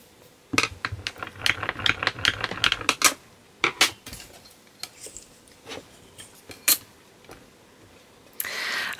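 Polymer clay sheets being cranked through a pasta machine, giving a run of sharp mechanical clicks and rattling ratchet-like ticks in bursts, close and fairly loud, with short pauses between passes.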